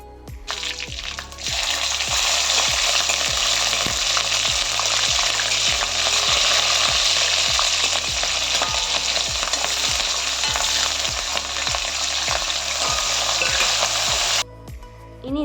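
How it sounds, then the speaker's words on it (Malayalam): Mustard seeds, curry leaves, garlic and green chillies fry in hot oil in a pan for a brinjal pickle, giving a loud, steady sizzle and crackle that starts abruptly and runs nearly unbroken before cutting off near the end. "ശേഷം അതേ ചീനച്ചട്ടിയിൽ കുറച്ച് എണ്ണ ഒഴിച്ച് അതിലേക്ക് കടുകിടുക ഇനി അതിലേക്ക് കുറച്ച് വേപ്പില ഇട്ടതിന് ശേഷം കുറച്ച് വെളുത്തുള്ളിയും പച്ചമുളകും ഇട്ട് കൊടുക്കുക"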